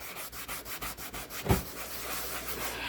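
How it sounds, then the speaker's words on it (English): A porous surface is scrubbed by hand, producing close, rhythmic rubbing strokes repeated several times per second, with one louder scrape partway through and then steadier rubbing. "so I've been scrubbing that a little bit"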